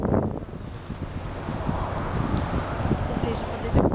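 Strong wind blows steadily outdoors in Bogotá on a sunny day, a loud continuous buffeting rush with gusty mic rumble that stays close and constant throughout.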